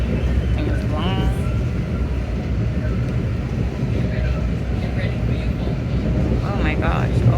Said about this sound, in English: I think that was the Amtrak.